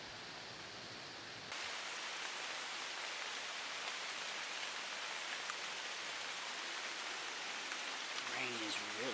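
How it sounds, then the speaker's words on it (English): Heavy rain pours down outdoors during an evening deer hunt, a dense steady hiss that swells suddenly after a quieter start and keeps up throughout, with faint chirps near the end. "Rain is really coming down now."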